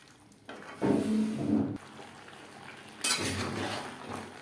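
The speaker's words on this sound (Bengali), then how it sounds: "ভেজে রাখা আলু মাংসর সাথে ভেজে রাখা আলু বেশ ভালো করে মিক্স করে দেব" A spoon scrapes and clinks in a pan as fried potatoes are stirred into chicken curry. Two bursts of metallic scraping, the second brighter, sit over a quieter background, with no speech.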